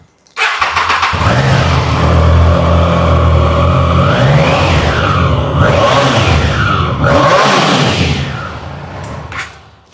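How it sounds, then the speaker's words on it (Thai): A Triumph Trident 660 three-cylinder motorcycle starts up and idles loudly up close, its exhaust rising and falling through several throttle blips before settling and cutting off. "เดี๋ยวมาฟังเสียงท่อกัน สักนิดหนึ่งว่านุ่มแค่ไหน"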